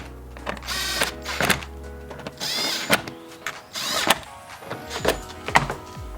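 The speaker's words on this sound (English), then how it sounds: "go ahead and pop back in the grill and tighten down the 6 screws" A power driver tightens the six grille screws on a BMW 2 Series M235i after an aFe air scoop install, in short whirring bursts separated by clicks and knocks, close and fairly loud.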